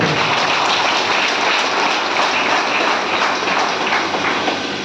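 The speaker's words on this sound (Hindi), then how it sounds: "मैं सभी लोगों से आग्रह करूंगा कि इस सफल आयोजन के लिए इन सबों के लिए जोरदार तालियों के साथ इनका स्वागत" A crowd at a Kargil Vijay Diwas event gives loud applause, a dense, continuous wash of clapping that holds steady for several seconds.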